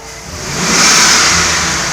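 The engine of a 2006 Chevy Silverado pickup is revved up to about 4,000 rpm and held there during an oil change. It is close and loud, climbing steadily for the first second and then sustaining a high, even roar.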